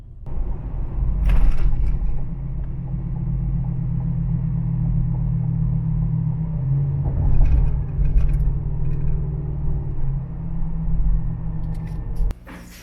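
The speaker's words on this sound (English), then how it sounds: "driveline noises can be tough to pin down and even tougher to catch good audio on camera" Steady low rumble of a worn front wheel bearing on a 2015 Ford F150 2WD pickup, a continuous droning hum with slight pitch waver and a few faint scrapes, heard from inside the truck while driving.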